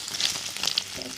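Bread slices frying in a pan for evening toast, a steady soft sizzle with a few brighter crackling pops, close and fairly quiet throughout.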